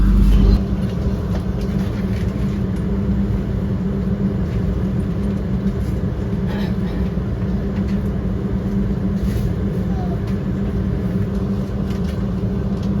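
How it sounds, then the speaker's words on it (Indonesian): The Argo Wilis passenger train departs Tasikmalaya station with a loud, steady rumble and hum of rolling stock and engine, continuous and close throughout, with faint higher clanks now and then. "Jam 10:06 tepat kereta api Argo Wilis kembali diberangkatkan dari stasiun Tasik."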